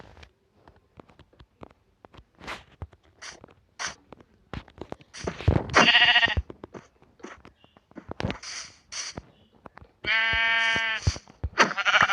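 Bleating Minecraft sheep in survival mode, scattered soft clicks and taps broken by several sharp baa calls, one long drawn-out bleat standing out near the end, loud and close.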